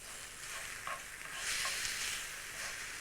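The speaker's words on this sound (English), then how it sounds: "Stir that in with the tomatoes." Sun-dried tomato paste being stirred into tomatoes in a pan, with a soft, steady sizzle and faint scraping strokes, fairly quiet and with no talking.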